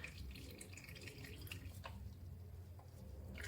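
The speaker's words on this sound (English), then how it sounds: "I'm just gonna loosen this oil filter and get the oil out of it" Motor oil drains from a loosened oil filter on a 2007 car, a very faint trickle and patter of drips heard close against quiet background hiss, with no voices.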